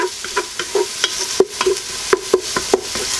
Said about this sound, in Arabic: ونديوه باش نقليوه فوق البوطا